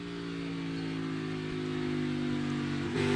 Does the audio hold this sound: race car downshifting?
yes